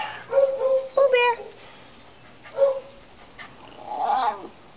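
Dogs growl and whine during play, with a few short rising whimpers and throaty grumbles near the mic in a quiet indoor space.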